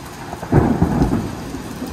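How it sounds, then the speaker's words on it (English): Heavy rain pours down steadily during a thunderstorm, a loud, dense wash with low rumbling swells building through the middle. "I'm sure that rain's overpowering the noise, but it's going to freaking pour over there."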